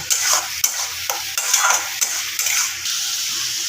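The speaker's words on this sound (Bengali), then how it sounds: "মশলাটা আমি অনেকক্ষণ ধরেই কষাচ্ছি" Spice masala for a spicy liver chorchori is stirred and fried in a pan, a metal spatula scraping repeatedly against the pan over a continuous hissing sizzle, close and fairly loud.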